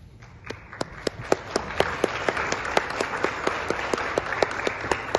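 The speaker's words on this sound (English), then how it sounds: "Let's give a round of applause to all of them." An audience at a Mother's Day gathering applauds the mothers, grandmothers and motherly figures, a steady wash of many hands with sharp individual claps standing out throughout, no talking.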